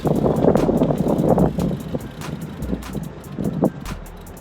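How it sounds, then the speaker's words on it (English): Strong gusty wind of about 15 to 16 mph buffeting the microphone outdoors at a BMX track, a continuous low rumble that swells and eases, with faint passing noise in the background. "The wind is nuts. It's like 15 mile, 16 mile an hour winds."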